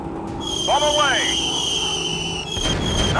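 A bomb dropped on an enemy factory in a warplane video game: a steady engine drone with a falling whistle-like sweep, then a muffled burst near the end.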